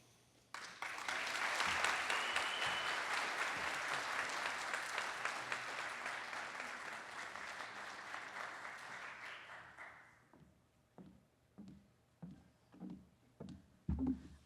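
An award gala audience gives a sustained round of applause that lasts about nine seconds, then fades to a few scattered claps and knocks.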